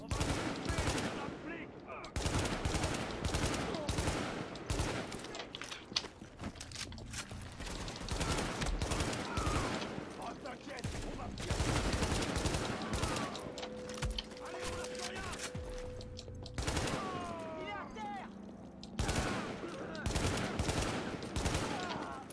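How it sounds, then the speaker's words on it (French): Rapid bursts of rifle fire in the shooter game Tom Clancy's The Division, from a weapon firing three-round bursts, loud and dense with overlapping shots and mechanical clatter, a brief lull with a steady tone, then renewed shooting. "J'ai décidé de prendre mon autre fusil, celui qui tire 3 balles"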